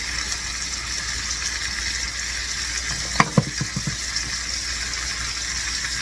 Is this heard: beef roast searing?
yes